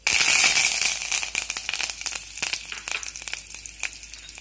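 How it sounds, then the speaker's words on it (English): Cumin seeds and curry leaves crackle and splutter in hot oil for a savory capsicum jhunka, a dense burst of sharp pops and sizzling at first, then settling into scattered crackles close to the pan. "Now I have added the jeera, that's the cumin seeds. It's already spluttering."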